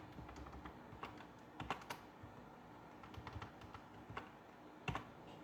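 Quiet, irregular clicks of a computer keyboard are heard as someone types code for a data analysis. The keystrokes come in scattered taps and short runs, with a few louder presses like Enter, and no talking.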